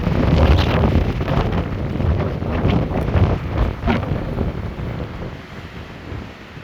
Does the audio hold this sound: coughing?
no